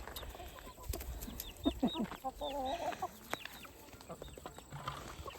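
Backyard hens clucking and squawking at evening chore time, several birds calling in short bursts and warbling phrases, close and fairly loud over farmyard background noise.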